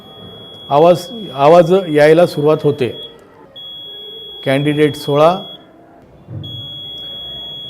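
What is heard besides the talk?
continuous beep of electronic voting machine while clearing votes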